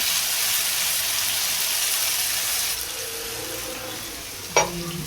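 Ground spice paste hitting hot oil with golden-brown onions for a red mutton curry, a steady loud sizzle that eases as it settles, then a brief clink of a utensil against the pan.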